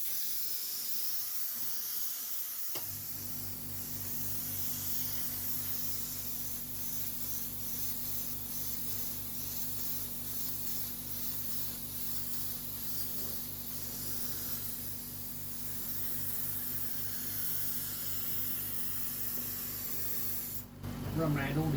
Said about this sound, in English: we're going to get the spray gun out and start doing a little bit of spray staining